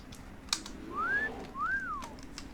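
Whistle emote from a character in World of Warcraft, two rising-and-falling whistled notes one after another, clear and close, preceded by a sharp click.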